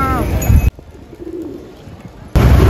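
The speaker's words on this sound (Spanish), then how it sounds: "están muy llenas de palomas." Many pigeons crowd a town square in Colombia, their soft cooing and fluttering mixed with bursts of loud nearby street noise and voices at the start and end.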